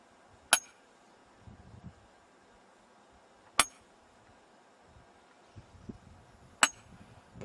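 Three sharp metallic strikes ring out, evenly spaced about three seconds apart, each a hard clanging hit of a sledgehammer on a metal wedge, with quiet shuffling between.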